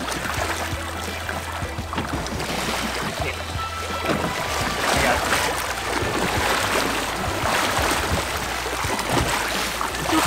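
A boat engine drones steadily with water churning and splashing around the hull, loud and continuous with no voices.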